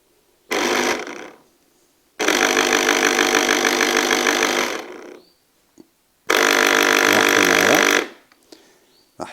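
Motor of an electric Clatronic orange juicer spinning its spindle after the motor was reseated during repair, in three loud steady buzzing runs separated by short pauses, no talk.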